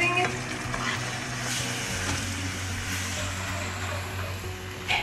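Chicken and vegetables stir-fried with soy sauce in a hot pan make a constant, fairly loud sizzle and hiss, with stirring noise running throughout.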